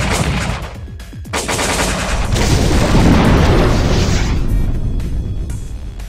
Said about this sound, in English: I think that's an interceptor. Interceptor deployed. Interceptor rockets.